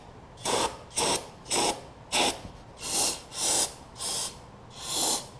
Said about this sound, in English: we're going to hit it with some brake cleaner and see